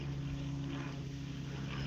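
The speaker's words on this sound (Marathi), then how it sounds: "वरून विमान चालले" A steady, droning propeller-plane engine hums overhead, constant and moderately loud throughout.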